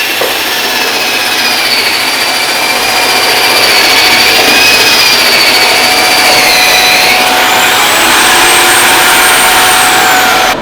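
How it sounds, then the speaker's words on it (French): Vacuum cleaner running together with a long-reach drywall sanding machine, a loud continuous whine and hiss with shifting high tones as the sander speed wavers, steady throughout with no talking. "je ne sais pas si on a bien entendu avec le bruit de l'aspirateur, plus le bruit de la machine"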